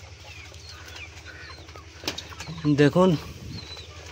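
Pigeons of the Siraji, Deshi and King breeds in a loft give soft coos and brief wing flutters close by, with a louder burst of calls and flapping near the end. Someone speaks briefly over them.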